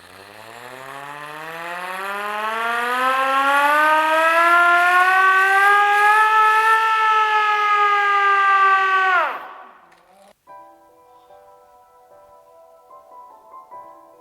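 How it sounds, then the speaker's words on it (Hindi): An old emergency siren at a 150-year-old railway station winds up into a loud, steady wail over several seconds, holds, then drops sharply and winds down, leaving a faint hum. "ये इमरजेंसी सायरन है"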